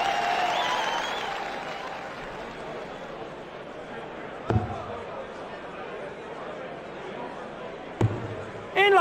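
A darts crowd at the 2008 PDC World Matchplay applauds in a steady, distant wash of clapping and murmur, fading gradually under a commentator's talk, with a couple of sharp thuds cutting through.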